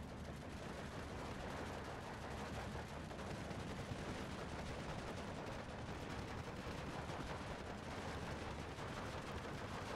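Continuous dense machine gun fire from a ZB-24 in the Steel Division World War II strategy game, a steady rattling barrage with no pauses for the full length, mixed with wider battle noise.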